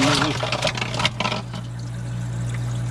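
Melted ice water drains and trickles inside a Euhomy 100 lb commercial ice maker, a brief splashing pour at first that settles into a steady low flow over the machine's constant hum.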